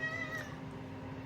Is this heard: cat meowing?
yes